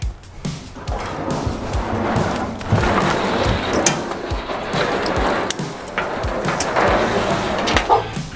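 A puppy yaps and barks in several short bursts out in the open, heard around a field of old cars where a long-parked Challenger T/A is being pulled out on a trailer. Steady outdoor noise and some clatter run underneath.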